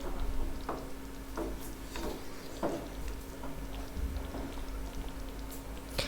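Egg curry gravy seasoned with garam masala simmers in a pan, giving a steady stream of soft bubbling pops and sputters over a low background hum, with no voices.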